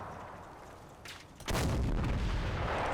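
Tank gunfire in a combat video game: after quiet low rumble, a distant thud, then a loud heavy boom at about one and a half seconds that rolls into sustained rumbling.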